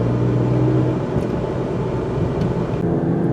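The twin-turbo V6 of a 2019 Alfa Romeo Stelvio Quadrifoglio pulls away with a steady low rumble and a rising drone, close and fairly loud, with no talk.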